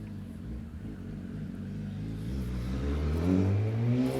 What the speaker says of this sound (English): I do live on a very busy road.